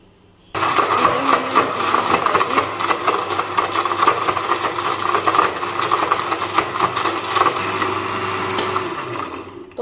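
A kitchen blender grinds banana with milk for a milkshake, starting abruptly after a brief quiet moment and then whirring loudly and steadily with a motor hum.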